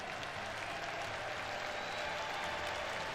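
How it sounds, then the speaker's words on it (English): Audience at the Evo 2022 Street Fighter V top 8 breaks into loud, sustained applause, a dense wash of clapping and crowd noise that holds steady for the whole stretch. "Let's give these gentlemen a round of applause for the game that they play"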